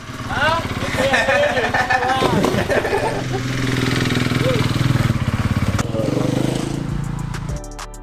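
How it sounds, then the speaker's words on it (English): A KTM Supermoto motorcycle engine idles and revs nearby at a garage during Jeep Gladiator bumper work, a steady droning rumble running under loud overlapping talk. "the kid just stopped by on the bike"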